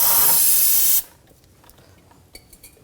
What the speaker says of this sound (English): Little brake parts cleaner.